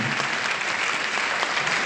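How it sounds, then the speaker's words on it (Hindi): Audience at a nursing institute farewell for an S1 batch in Jaipur breaks into steady, dense applause, loud and continuous for the whole stretch with no talk over it. "तो मुझे जोरदार तालियां"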